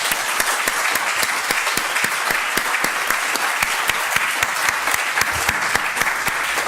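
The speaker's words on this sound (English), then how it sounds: "I will invite you to give a round of applause to our panelists" A conference audience gives the panelists a round of applause, dense steady clapping from a room full of people that carries on evenly throughout without voices.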